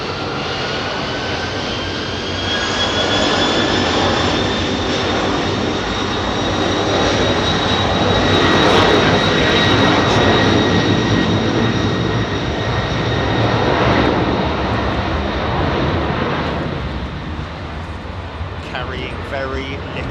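An aircraft takes off up close from runway 27R at London Heathrow, a loud, steady engine roar with high whining tones that swells and then slowly eases, while people talk over it.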